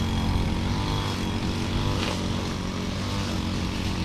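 A grass cutter engine drones loudly and steadily nearby outdoors, a continuous buzzing motor with constant harmonics and no talk over it.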